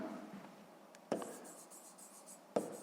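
Pen scratching on paper while a math exercise answer is written out, soft continuous scribbling with two sharper taps, close and quiet, no voice.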